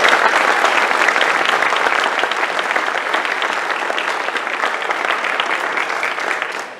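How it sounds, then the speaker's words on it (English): Audience applause at an afternoon theater show honoring a backstage crew member, dense sustained clapping from a full house that holds steady and slowly tapers toward the end. "we want to give a very big round of applause to her"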